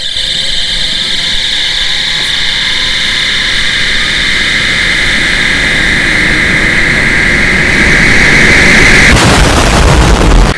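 An irrigation well pump motor spools up with a steady turbine-like whine, loud and continuous, rising toward the end with a burst of broadband roar, with no talking.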